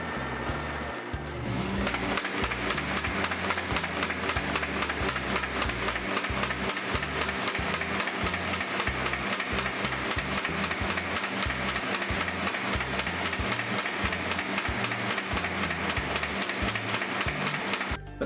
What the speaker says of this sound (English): you have a switch for turning on the rollers, and then you have a switch that turns on the pump that allows the sheets to be fed through